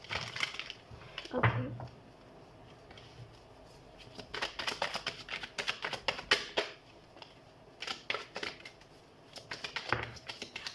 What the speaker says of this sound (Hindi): तो सबसे पहले हम कार्ड शफल कर लेते हैं।